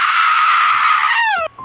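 A loud, sustained high-pitched scream rings out in a comedic skit, holding steady for over a second before its pitch bends downward and cuts off abruptly.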